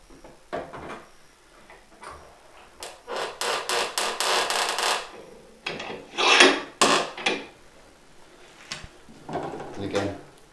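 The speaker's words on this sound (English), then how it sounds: "it's just a matter of taking the saw rasp to it" A saw rasp files the wooden body of a thinline Telecaster guitar, producing bursts of rough scraping strokes in irregular clusters, close and moderately loud, with brief pauses between passes.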